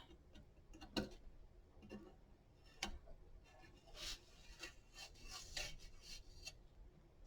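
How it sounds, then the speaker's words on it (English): A fork scraping and rasping at a sticker on a herb planter, a faint, close series of short ticking scratches in an irregular rhythm, heard alone without talk. "you're gonna do the same thing with the fork, just kind of scrape a little bit to peel that sticker off"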